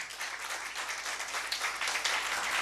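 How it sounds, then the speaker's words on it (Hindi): A church congregation applauding after a sermon, dense continuous clapping that swells and grows louder toward the end, filling the room without any speech. "तो जोरदार तालियां बजाएं।"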